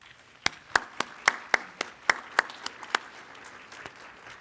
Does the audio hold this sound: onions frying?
no